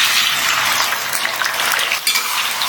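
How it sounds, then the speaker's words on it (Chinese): Pork intestines stir-frying in melted lard inside a hot clay pot, giving a steady, dense sizzle with scraping and clinking of a spatula against the pot, close and continuous. "开大火煸香。"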